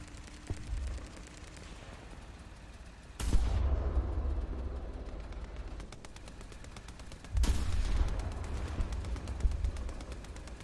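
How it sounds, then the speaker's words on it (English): Gunfire and explosions in the War Thunder combat game, with two heavy booming blasts a few seconds apart, each followed by a rumbling tail, over a constant background of rapid shots and noise. "The explosions drown out."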